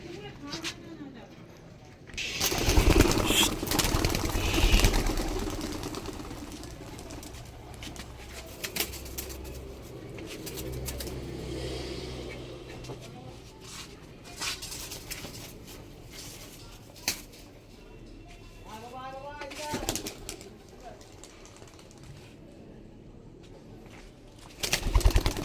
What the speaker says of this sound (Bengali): তো চলো পায়রাগুলোকে ছেড়ে দিই।